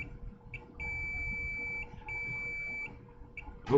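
Multimeter continuity tester beeping on an iPhone X logic board, a thin steady electronic tone that sounds in short and long stretches with brief gaps, faint against a quiet background.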